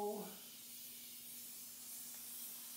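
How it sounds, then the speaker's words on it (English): Elmer's spray adhesive hisses steadily from an aerosol can in a workshop, a continuous close spray lasting a few seconds after a brief voice at the start. "this is just Elmer's spray adhesive"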